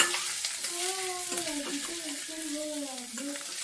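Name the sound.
eggs frying in a pan with onions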